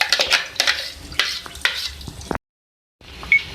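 Blended masala fries in oil for a dahi chicken karahi, with a crackling sizzle broken by sharp scrapes and clanks of a spoon against the pan. Everything stops for a brief silent gap, then the frying resumes.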